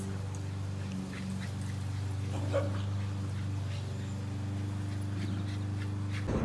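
A dog gives a few soft, distant yips and whimpers over a steady low hum, the calls faint and scattered rather than loud barking.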